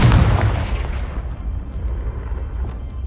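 A blasting spell explosion in the video game Hogwarts Legacy: one loud, deep boom at the start that rumbles and slowly fades over a few seconds.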